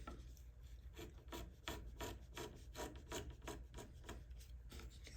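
Wooden guitar top braces are sanded by hand in a quiet, steady stream of rhythmic rasping strokes, close and soft, with no voices.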